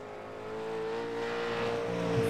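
V8 Supercar at the ANZAC six-hour race passes with a steady, droning engine note that swells as it draws near, heard at a distance with no talk.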